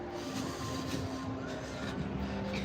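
Disneyland trams rolling past in a steady, continuous rumble with a faint tonal whine over busy outdoor park ambience, no talking heard.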